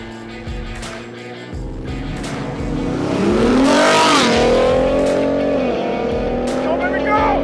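Ford Raptor trucks, a 3.5L twin-turbo EcoBoost and a supercharged V8 Raptor R, accelerate hard on a race track, engines revving and climbing loudly with rising pitch and some tire noise, under excited voices.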